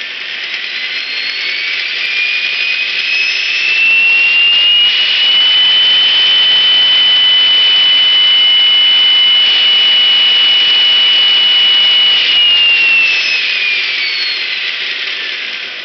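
A flow accelerator turbine device spins up into a loud, steady whine that rises in pitch and holds, then eases slightly toward the end, with no one talking.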